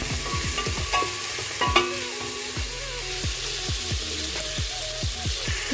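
Sliced garlic and about four chopped green chillies being stirred in a frying pan, steady sizzling with repeated scraping strokes of a spoon, close and continuous, while preparing mutton biryani.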